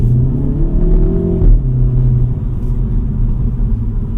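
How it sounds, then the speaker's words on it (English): A 2025 MINI Cooper JCW engine hums and revs steadily from inside the cabin, a strong low drone with a brief rise in pitch before settling back. "You can hear a nice engine note from the inside."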